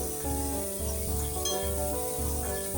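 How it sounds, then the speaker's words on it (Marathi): Onion and tomato frying with a pinch of salt in a pan for a black chana dish, giving a continuous close sizzle with soft scraping and stirring pulses underneath. "ते मिठाने कसं लवकर फ्राय होतो कांदा"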